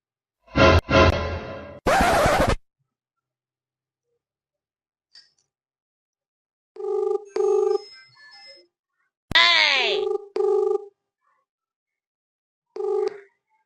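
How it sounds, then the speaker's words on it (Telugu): Electronic phone tones: a few short beeps, then repeated ringback-style tone bursts with pauses between them, with no voices. "ఒకసారి ఫోన్ చేద్దాం"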